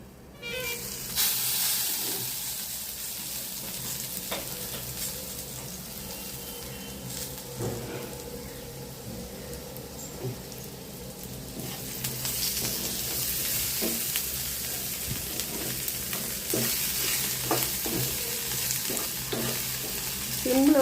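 Stuffed ivy gourds sauté in a pan, frying with a steady sizzle and hiss throughout, punctuated by occasional clacks of stirring and turning, close and continuous with no talk.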